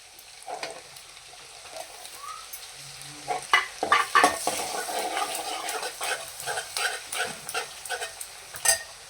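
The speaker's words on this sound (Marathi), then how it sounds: "असं आपण ह्याला हलवून घ्यायचं" Spices and softened onion fry in a pan for a kingfish curry, starting as a quiet sizzle and then growing into busy, rhythmic stirring scrapes and crackles close by, with no talk.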